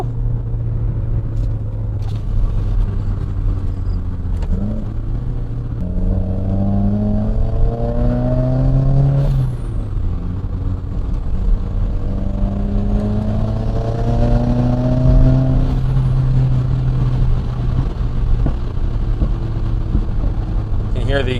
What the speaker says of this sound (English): Hear the exhaust pop,